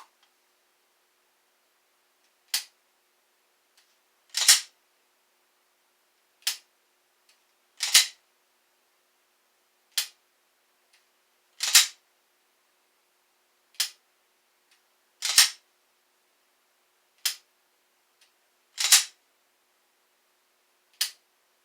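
Dry-fire trigger presses on an unloaded pistol: about a dozen sharp, isolated clicks at irregular intervals of roughly two seconds, some landing as doubled snaps, close and crisp against near silence.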